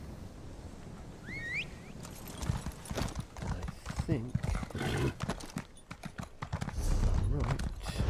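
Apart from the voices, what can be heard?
horse hooves clip-clopping, Elder Scrolls Online video game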